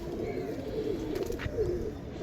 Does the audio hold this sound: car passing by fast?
no